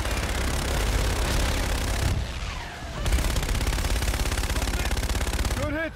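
Sustained rapid automatic gunfire from the Infinite Warfare mission Black Sky, loud and continuous with a short lull in the middle, joined by engine roar and radio-style voices.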